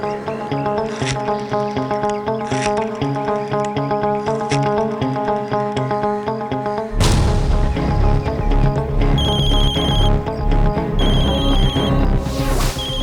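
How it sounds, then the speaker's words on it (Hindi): A telephone rings in a Hindi horror drama scene, a repeating electronic ringtone pattern that cuts in over loud, dense dramatic music with no talking. "मैंने इस फोन से अपने मोबाइल पर फोन किया था।"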